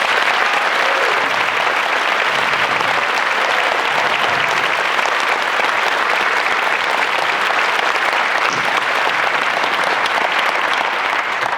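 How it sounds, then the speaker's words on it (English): Sustained applause from a large audience at a 2023 Lantern Festival performance, loud and even throughout, a thick wash of many hands clapping with a faint murmur of the crowd beneath. "So let's give her another round of applause."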